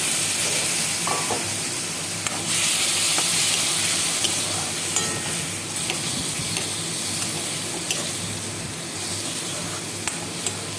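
Ginger-garlic paste, chilli powder and coriander powder frying in a pan with a little water, a loud, dense, hissing sizzle that holds steady with occasional stirring clicks.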